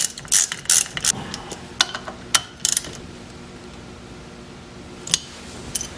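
A ratchet clicks in short bursts while snugging down steering wheel bolts on a 1986 Mustang GT, close and crisp, with quiet pauses between strokes.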